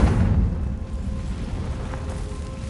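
A deep, rumbling blast from a fire spell in the video game Hogwarts Legacy booms loudly at the start, then trails off into a sustained, crackling roar.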